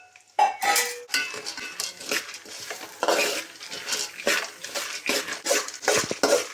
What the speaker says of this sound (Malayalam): അടുത്ത കടലപ്പരിപ്പാണ് അത് ഇതുപോലെ ഒന്ന് നമുക്ക് വറുത്തെടുക്കാം